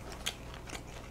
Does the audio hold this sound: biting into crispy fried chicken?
yes